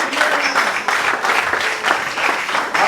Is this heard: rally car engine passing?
no